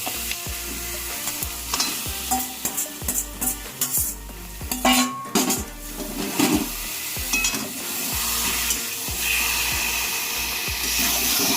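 Mutton frying in spiced masala for biryani, stirred with a spoon: a loud, close sizzle under rapid scraping and clattering against the pot, easing into a steady hiss.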